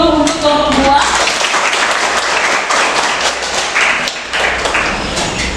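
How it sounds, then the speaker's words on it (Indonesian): A classroom gives applause for a presenting student group, a short spell of scattered clapping and taps that fades over a few seconds. "Beri aplaus dulu untuk kelompok 2."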